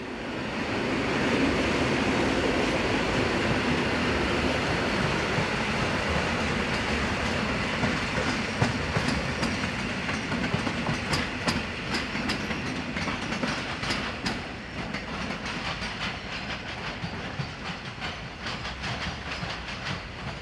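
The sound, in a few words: regional electric train unit arriving from Katowice, Poland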